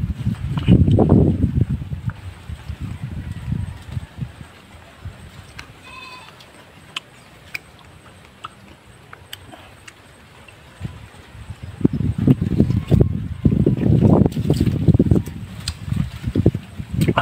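Gusty wind rushes through a forest in low, buffeting waves, strongest at the start and end, with a calmer stretch in between. Goats can be heard in the background.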